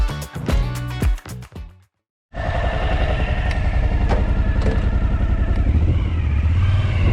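A short musical intro cuts to silence, then a motorcycle engine runs continuously and loudly, steady throttle while riding on country roads in Normandy, close to the microphone.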